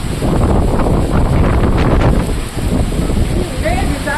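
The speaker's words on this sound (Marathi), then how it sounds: "जोरात वारा सुटलेला आहे. वादळ चक्रीवादळ" Strong gusting wind before a cyclone roars steadily and loudly against the microphone in a broad, continuous rush that dips briefly, with faint higher whistles near the end.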